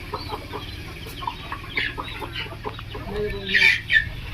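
Free-range farm chickens running in to be fed give soft, scattered clucks and short calls, some closer and sharper near the end, with no talk over them.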